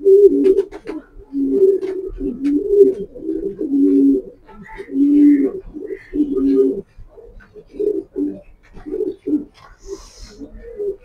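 Pigeons in a loft, a pair of Kitel-line and Maxi racing birds, give repeated throaty coos in close rhythmic bursts, with a few faint chirps and shuffling between calls.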